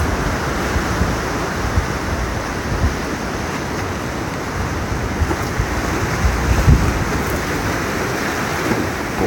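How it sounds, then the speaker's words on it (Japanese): Rough typhoon seas heave into a harbor on the Sanriku coast, about five-meter swells, a loud continuous roar of surf and wind with no pauses and no voices. "笹の港も大しけです。 うねりが5メーターほどありますね。"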